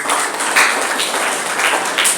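An indoor audience applauds at a gathering, a dense wash of hand clapping that goes on steadily throughout at moderate distance.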